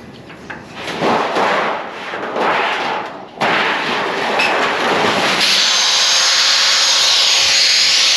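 A grinder running, a harsh loud whirring noise that steadies into a bright continuous hiss after a few seconds of rising and falling.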